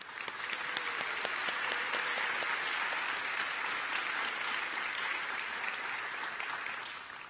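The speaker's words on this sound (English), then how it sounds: "Please help me give a round of applause to Brianna Negley." Audience at a college honor society induction ceremony applauds steadily, a dense, sustained wash of many hands clapping at even loudness for about seven seconds before tapering slightly at the end.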